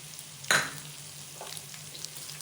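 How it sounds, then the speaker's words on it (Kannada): Onion frying in a pan for masala chitranna gives a soft, quiet sizzle under a low hum, with one sharp utensil clack early and a faint second scrape. "ಈರುಳ್ಳಿ ಸ್ವಲ್ಪ ಫ್ರೈ ಆದಮೇಲೆ ಕ್ಯಾಪ್ಸಿಕಮ್ ಹಾಕೋಣ."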